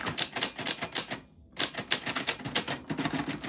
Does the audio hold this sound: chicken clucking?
no